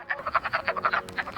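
Wood frogs call from a man-made vernal pool in spring, a rapid run of short, duck-like clucking croaks repeating close by with no voices over them.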